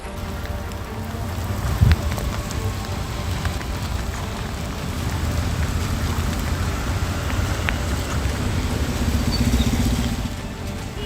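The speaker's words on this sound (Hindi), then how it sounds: "पिछले 3 दिनों से मूसलाधार बारिश की वजह से मुंबई के रास्तों में पैदा हुए गड्ढों की" Heavy monsoon rain pours onto the flooded streets of Mumbai as a steady, dense wash with a distant motor passing underneath, continuous and fairly loud throughout, with no talking.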